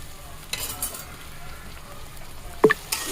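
Spice paste cooked down and stirred in hot oil for a rohu fish head and mung dal dish, a soft sizzle with a few scraping strokes of a spoon and a sharp clink near the end.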